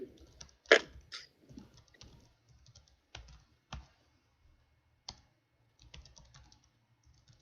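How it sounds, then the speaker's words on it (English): Scattered keyboard clicks and taps, irregular and fairly faint, with brief pauses between bursts and a louder clack early on, in a quiet room. "So I think, Doug, are you typing to him right now?"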